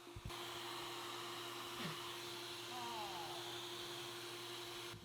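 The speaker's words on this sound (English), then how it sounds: "Then I can run my router against the guide and make the cut" A handheld router runs steadily as it cuts along a plywood guide on a countertop, giving a continuous whining drone that stays at an even level for the whole stretch.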